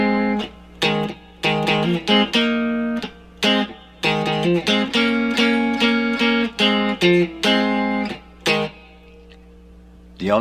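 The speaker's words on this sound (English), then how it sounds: "that famous dual guitar lead that sounds something like this" An electric guitar plays the dual lead line from a rock song on one guitar, using double stops: distorted, close, sustained harmonized notes in a phrased rhythm with short gaps, over a low steady hum, with no talking.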